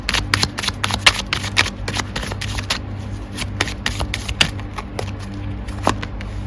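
Tarot cards being shuffled by hand at close range, a steady run of dry riffling and rubbing bursts with sharper snaps, over a low constant hum and no talk.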